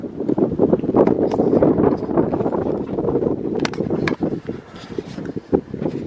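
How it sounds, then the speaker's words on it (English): Gusty wind blowing outdoors in the Antelope Valley, a steady loud rush buffeting the microphone with rumbling surges and brief dips throughout. "And of course it's another fun windy day here in the Antelope Valley."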